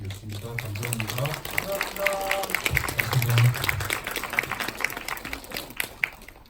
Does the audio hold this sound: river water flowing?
no